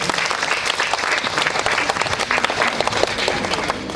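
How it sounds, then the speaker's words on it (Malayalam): An audience claps at a temple festival cultural gathering, a dense, sustained burst of many hands that stays loud and even for the whole stretch. "നല്ലൊരു കയ്യടി കൊടുക്കൂ"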